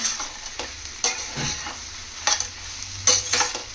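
Grated raw mango frying briefly for mango pulihora, a soft steady sizzle under repeated scraping stirs of a spatula in the pan, close and moderately loud with no voices.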